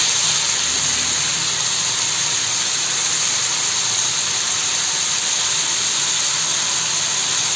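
Tomatoes and curry leaves sauté in a hot pan, giving a loud, steady, close hiss of sizzling oil that holds evenly throughout without breaks.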